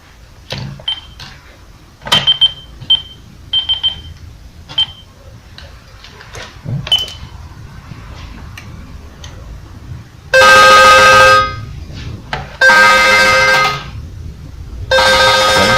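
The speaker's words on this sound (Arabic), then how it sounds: "هترن بمجرد ما رن هنا على الزر ده على طول على الشاشة هترن" A Golmar Jazz video intercom kit rings with loud electronic buzzing bursts, three long pulses in close succession, preceded by scattered clicks, short beeps and handling noise from button presses.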